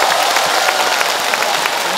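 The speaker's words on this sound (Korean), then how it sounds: "여러분 다 같이 박수 한번 보내드리겠습니다" Broad, steady hiss of audience applause at a stage performance, a crowd clapping loudly and continuously without a break.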